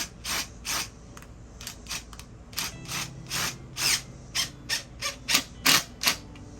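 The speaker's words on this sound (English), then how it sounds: "You gotta hold pressure on the drill, okay? You gotta push on the drill too." A power drill drives screws while a Vego Garden retractable hose reel is installed outdoors, running in about a dozen short, evenly spaced whirring spurts that sound close and fairly loud.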